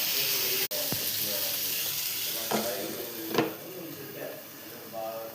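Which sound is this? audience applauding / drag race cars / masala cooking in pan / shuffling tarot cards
masala cooking in pan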